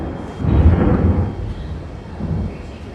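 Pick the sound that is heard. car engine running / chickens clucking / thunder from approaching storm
thunder from approaching storm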